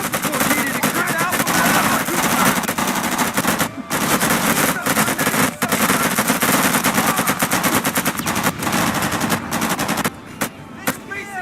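Dense, continuous automatic gunfire with overlapping bursts fills a firefight in the PS2 shooter Made Man: Confessions of the Family Blood, loud throughout and thinning briefly near the end, with shouted voices mixed under the shots.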